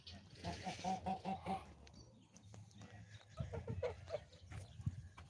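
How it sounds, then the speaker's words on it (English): Geese at an animal sanctuary honk in short bursts, first a rapid run of calls and then more scattered honks later, close by with outdoor background noise. "Here's another nice goose."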